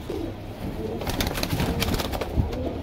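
A flock of pigeons, including Border Wale, Kalanch and Dub Wale cross breeds at a sale in Mumbai, cooing and fluttering close by, with soft overlapping coos and scattered wing flaps against a busy background.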